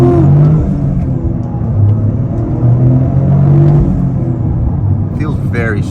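A 2023 Toyota GR Corolla accelerates hard on a highway pull, its engine droning loudly and steadily with rising tones under the driver's talk inside the cabin.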